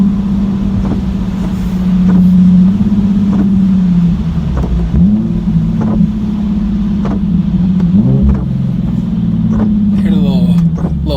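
A Nissan 370Z with its muffler deleted drones loudly and steadily from inside the cabin, with a deep booming exhaust note and occasional surges.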